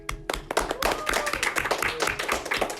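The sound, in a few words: people clapping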